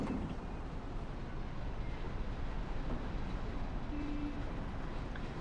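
Steady low rumble of a train ride in the video game Mafia, a continuous rolling drone with no distinct clacks, carrying on evenly throughout without speech.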